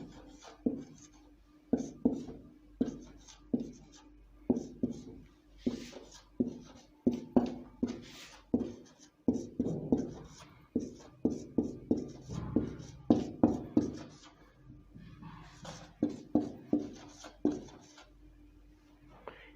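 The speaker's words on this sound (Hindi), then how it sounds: "अब इस संख्या को पूरा लिखते हैं, जो आपके पास एक डाटा है उसको पूरा लिखते हैं।" Pen or marker writing a number on a board or paper during a math lesson, a series of close, quick scratchy strokes and taps in irregular bursts, with no talk.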